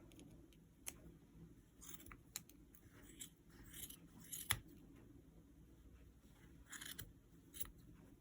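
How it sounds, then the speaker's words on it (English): Scissors snip the loose yarn ends off a handmade wool gnome: a scattering of small, sharp, close clicks and snips over a quiet background, spaced irregularly across the stretch. "I'm going to take my scissors and I'm going to cut the ends"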